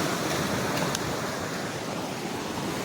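Sea waves wash onto Mayajaal beach near Chennai at sunrise, a steady, dense hiss of surf with no distinct breaks, fairly loud and close, and no voices.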